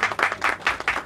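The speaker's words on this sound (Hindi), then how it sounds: "आई थिंक इनका स्वागत तो तालियों से होना चाहिए।" A small audience claps in bursts to welcome two guests at the launch of a Marathi and Hindi song, the hand claps rising and falling in several quick waves, fairly close and without talk.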